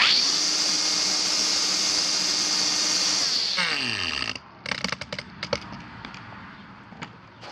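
A cordless Kobalt 24V string trimmer (item 3488480), fitted with a modified Shakespeare Ugly trimmer head, whirs with a loud, steady high whine, then spins down and stops, followed by a few sharp handling clicks and knocks.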